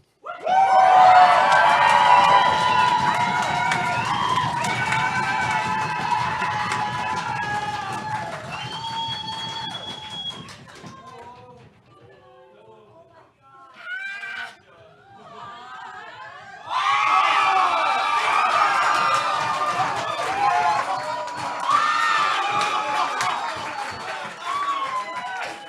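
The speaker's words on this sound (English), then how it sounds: "Screaming your head off, stomping your feet, clapping your hands, banging on the tables" A comedy-show audience screams, whoops and claps loudly before a sword-swallowing act, the cheering dropping out for a few seconds near the middle, then surging back just as loud.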